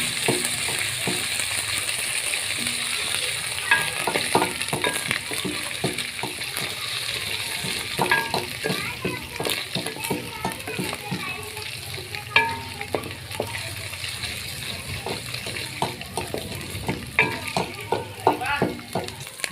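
Masala sizzles and fries in a pan for namkeen daal mash while a spoon stirs it, a steady crackling hiss broken by irregular scraping strokes, close and continuous with no talk.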